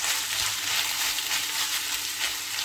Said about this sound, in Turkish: Arkadaşlarım soğanı sotelendi, biberlerini koymuştum.